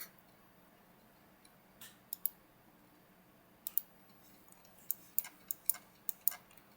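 Sharp, light clicks of a computer mouse come singly and in quick pairs at close range, growing more frequent toward the end against a quiet room background, with no talking.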